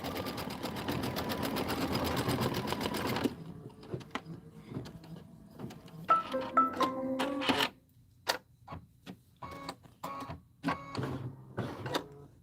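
Embroidery machine stitching a fabric leaf for an autumn design: a steady dense run of rapid mechanical stitching, then choppier bursts of shorter stitch runs separated by brief pauses.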